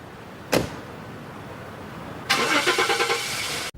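A car door thuds shut nearby, then after a pause a car engine starts with a loud whirring crank and settles into a running idle, ending abruptly; the car leaves Westminster.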